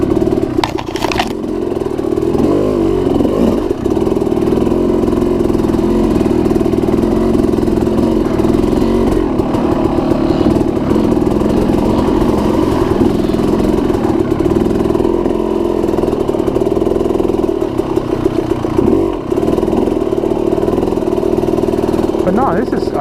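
A motorcycle engine runs steadily while the bike is ridden, a constant loud drone with slight rises and dips in pitch and rumbling clatter underneath, continuing for the full stretch.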